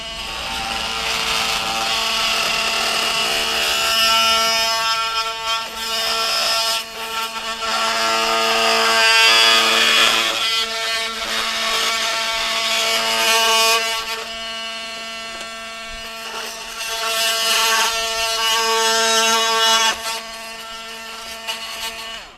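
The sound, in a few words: Milwaukee M12 FUEL oscillating multi-tool cutting hardwood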